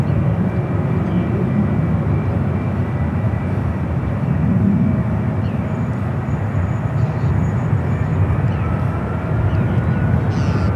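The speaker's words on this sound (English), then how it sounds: "Next takeoff." An airliner takes off at San Francisco airport, producing a loud, steady broadband jet roar that holds throughout with no voices.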